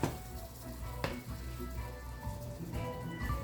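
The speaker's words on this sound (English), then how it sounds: "that has sauteed for a couple of minutes" Aromatics sautéing in a pan for Caribbean red beans and rice, a steady close sizzle and crackle with occasional stirring scrapes, no talking.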